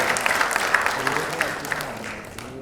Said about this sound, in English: can we have a big round of applause for Jacqueline Foundation?